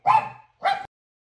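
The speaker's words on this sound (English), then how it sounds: "this is what it would sound like using the Yealink BH72 with dogs barking in the background" Two loud, close dog barks in quick succession, then silence, with no talking.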